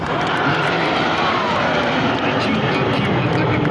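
Five assault aircraft fly over in a continuous, loud engine drone, steady throughout without a break, during a Republic Day of Armenia event.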